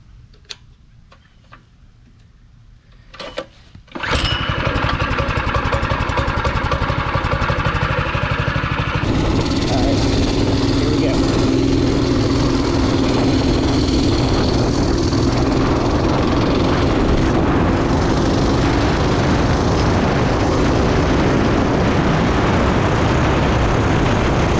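A Predator 212 small engine with a torque converter revs up loud and steady after a few quiet clicks, then holds a dense, buzzing drone through a speed-test ride.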